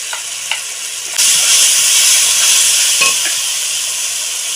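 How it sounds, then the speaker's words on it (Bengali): Masala with coriander and cumin powder sizzles in a pan for a Bengali fish and sweet potato curry, a steady loud hiss that swells after a second, with a few faint spoon clicks and no talk. "মশলাটা বসে যাচ্ছে ধনের গুঁড়ো দিয়ে দেবো জিরের গুঁড়ো দিয়ে দেবো"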